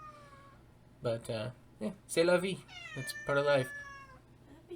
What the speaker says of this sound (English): That is my cat. My cat, Astoria. She is loud and whiny.